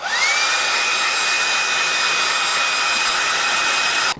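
A hair dryer blows steadily to dry watercolour paint on a mushroom drawing, a loud continuous whooshing roar with a high whine that rises and then holds steady, alone throughout.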